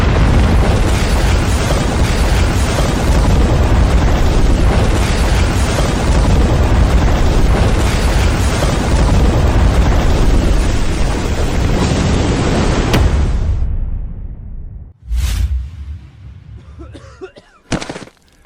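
A bridge blown up with explosives in a staged rural scene: a long, loud, roaring blast rumble sustained for over ten seconds, then dying away into a few scattered thumps and debris falls.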